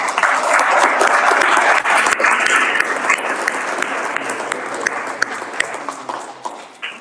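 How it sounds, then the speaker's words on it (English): An audience at an orchestra recital applauds graduating seniors with loud, sustained clapping from a crowd that slowly tapers toward the end. "let's have you guys give them a round of applause"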